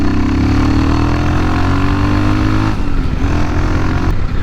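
A Royal Enfield Himalayan motorcycle pulls out and accelerates, its single engine droning loud and close with rising pitch through the gears, a brief shift dip, then a continued strong pull.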